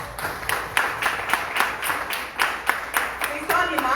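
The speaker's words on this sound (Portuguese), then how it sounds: "Mais uma salva de palmas para Jesus." A church congregation claps in praise, a steady rhythmic clapping at roughly even intervals, fairly close, with voices audible toward the end.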